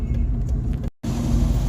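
An old project car's engine sputters and nearly stalls, a loud close rumble that cuts out abruptly for a moment before catching and running rough again.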